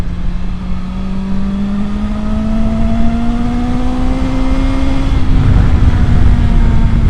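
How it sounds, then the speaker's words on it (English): A loud 2024 BMW S1000XR motorcycle engine revs continuously, its pitch climbing steadily and then holding at a high, rough growl. "when you get the revs up a bit, my word, she sounds absolutely epic"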